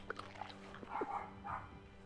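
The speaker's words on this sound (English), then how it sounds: "And someone's dog's barking outside." A dog barks outdoors a few times in a quick irregular burst, some distance off and moderately loud, with a faint whimper in among the barks.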